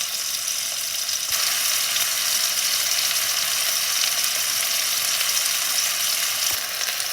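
A steak cooking to medium well in a frying pan gives off a steady, loud, even sizzle that holds for the whole stretch without pause or talk.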